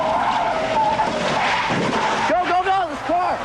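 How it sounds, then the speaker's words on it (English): Tires of a silver truck screeching on wet road in front of a mudslide during February 1996 flood coverage, a harsh skidding squeal mixed with traffic noise and wavering squeals near the end, with voices heard over it. "That silver truck that was caught in front of that mudslide, you heard the screeching of the tires."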